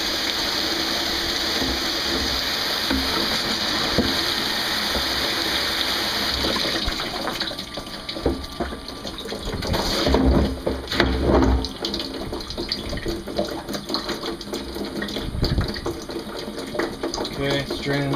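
Water running from a faucet aerator in a steady, airy hiss, then breaking into uneven splashing and gurgling as the flow shifts and drains.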